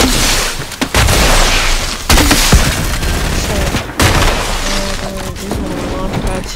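Rapid bursts of gunfire in a video game match fought with flare guns, dense and loud throughout with heavy booming reports, while people talk over the shooting.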